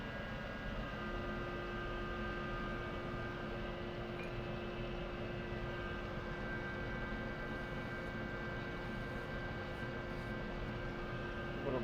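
Steady, even machine hum of a lathe turning a rotor at about 150 RPM, a continuous drone with faint tonal whine, unchanging throughout and moderately quiet, no voices.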